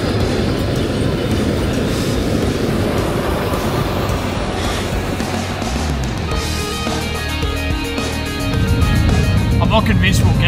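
The Puffing Billy steam train, an NGG locomotive hauling 13 cars with an NA pushing, rumbles somewhere in the forest as a steady mid-distance rolling noise, with people talking over it and the sound swelling near the end.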